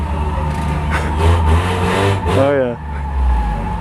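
Demolition derby car in a video game, its engine droning and revving loudly with a rising whine near the end, while a voice speaks over it.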